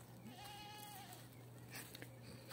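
Goats bleat on a backwoods farm in the Brazilian sertão at dawn, one drawn-out call standing out over a steady low hum and faint rustling, with no talk.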